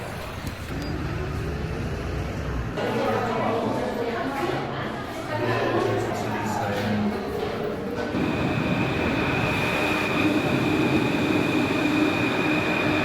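A Paris metro train rumbles and rattles along steadily with squeals and clatter, while people talk over the continuous noise of the ride.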